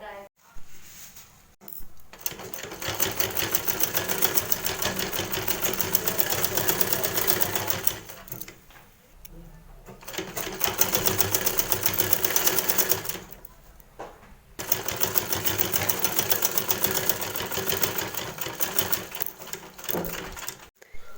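Sewing machine stitching a homemade doormat: three long bursts of rapid, even mechanical clatter, separated by short pauses, close by, with brief talk at the start.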